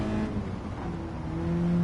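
Car engine in Gran Turismo 7, a steady, fairly loud droning hum with sustained tones that rise slightly toward the end, with no talk over it.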